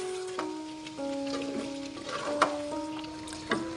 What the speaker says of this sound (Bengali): রসুন আর সিলিকা দিয়ে আমি ভালোভাবে নেড়ে ছেড়ে নিচ্ছি।